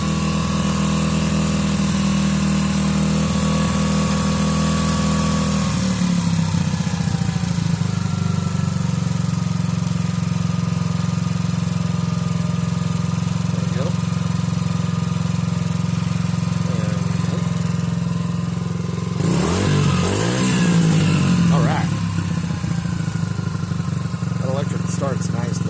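A Suzuki DR-Z70 dirt bike engine runs at a slightly high idle after a carburetor install, giving a steady, loud, close buzzing drone throughout, with a brief rev change near the end and people talking over it.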